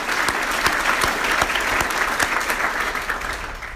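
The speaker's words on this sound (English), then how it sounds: "Let's give them a round of applause for all those that helped in our school system." A large audience at a State of the City address in Bridgeport applauds in a steady, full wash of clapping that fades slightly toward the end.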